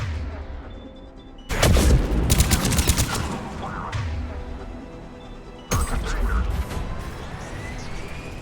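Gunfire in Mass Effect 3 at a besieged checkpoint: a sudden loud burst of rapid shots and crashing impacts, a lull, then another sharp volley, close and heavy.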